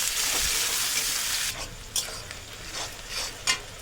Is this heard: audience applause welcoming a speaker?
no